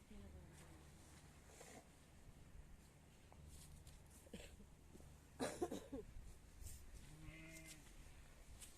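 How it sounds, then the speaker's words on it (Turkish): Sheep bleat faintly at a distance near old abandoned houses at a historic site, a few scattered calls over outdoor background noise, with people talking and some rustling and footsteps. "Koyun var burada."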